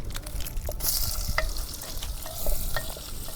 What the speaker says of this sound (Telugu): నూనె మరిగిపోయింది నూనె ఉల్లిపాయలు వేసుకుంటున్నాము